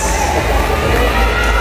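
A dense, loud roar of crowd cheering and screaming fills a packed room during a bodybuilding contest's announcement of the top finalists, continuous with no gaps.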